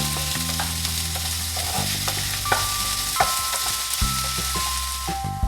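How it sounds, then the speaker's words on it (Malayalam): Onions sautéing in a pan for a Kerala-style paneer masala, with a steady sizzle and repeated spoon scrapes and knocks as they are stirred, set against background music. "ഇനി നന്നായിട്ട് നമുക്ക് ഇളക്കി യോജിപ്പിച്ച് ഒന്ന് നന്നായിട്ട് വഴറ്റിയെടുക്കണം"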